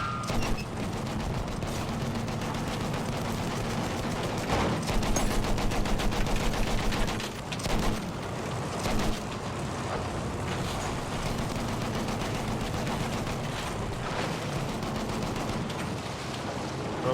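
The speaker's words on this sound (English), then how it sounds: "Machine gun right there!" Machine gun fire in the Battlefield 1 video game, with dense rapid bursts and distant gunfire over a constant roar of battle noise, including a clear rattling burst partway through.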